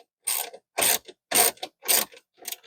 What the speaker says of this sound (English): the first thing we're going to do is remove the nut that holds this in place